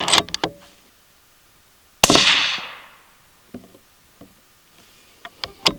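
Sharp rifle shot from a 6.5 Grendel Howa Mini firing 90gr Hornady CX handloads at 31.9 grains, one loud report with a long decaying ring, plus a few smaller clicks and knocks at the range.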